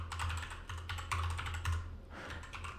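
Computer keyboard keys are tapped in a quick, irregular run of clicks while a name is typed, close and fairly quiet over a low steady hum.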